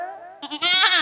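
A voice imitates a goat's bleat during a comedic stage act, a wavering nasal tone that breaks into a few short quavering pulses and then swells into a loud, trembling, sustained cry.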